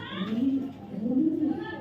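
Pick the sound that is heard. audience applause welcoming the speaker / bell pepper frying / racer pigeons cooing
racer pigeons cooing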